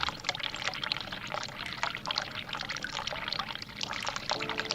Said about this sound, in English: Run hot water tap.